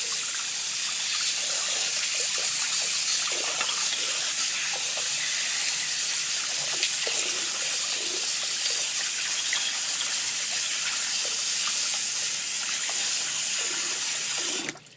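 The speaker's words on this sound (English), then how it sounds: "I can make some sort of cleaning solution, wash out each piece." Water runs steadily from a tap into a sink while kegerator parts are washed, a constant close hiss and splash with small irregular spatters, continuous for the whole stretch and ending abruptly, no voices.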